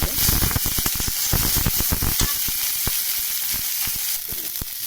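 Vegetable filling of chopped garlic, chilli, onion and carrot frying in hot oil, a loud continuous sizzle with scattered crackling pops throughout, no voices.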